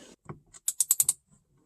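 Bolts are turned in on an airbag cover of a 2009-2015 Audi A4 B8. Quiet handling is followed by a quick run of five sharp, close ratcheting clicks.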